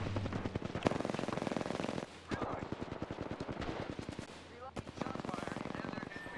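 Rapid automatic gunfire in the battle royale shooter Apex Legends, sustained bursts of closely spaced shots with brief pauses, loud and close, with game sound effects mixed in.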